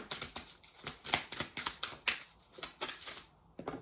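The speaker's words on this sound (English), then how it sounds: "So let's have a little shuffle and see." Rapid riffle-shuffling of a tarot or oracle card deck, a series of crisp, flapping bursts in quick succession, close up with no voices.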